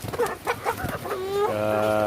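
Rhode Island Red chickens, almost five months old, cluck in short choppy bursts close by, followed by a drawn-out crowing call that holds steady to the end.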